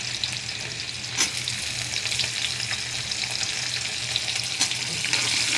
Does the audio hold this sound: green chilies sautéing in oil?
yes